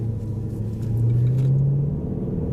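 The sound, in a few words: Range Rover SVR engine and exhaust rumble while driving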